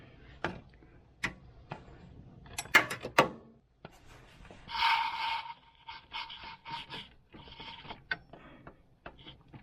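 Metal clanks and ratcheting clicks come from a breaker bar with an extension working on an alternator bolt of a Honda Odyssey, in short bursts with pauses, followed by a run of rapid ticking ratchet strokes.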